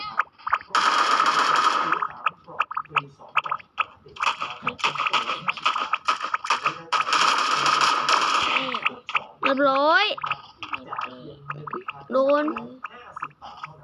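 Gunfire rattles in a video game, with bursts of rapid automatic shots and crackling impacts that come and go in long, loud stretches, while players talk and shout excitedly in between and over the shooting.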